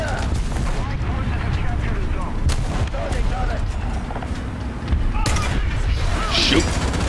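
Tank cannon shots boom in War Thunder amid steady engine rumble and clanking mechanisms, with a couple of sharp blasts standing out over the continuous battlefield din.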